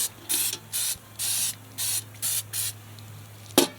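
A spray can hisses in six short bursts of about half a second each, close up and evenly spaced, followed by a sharp click.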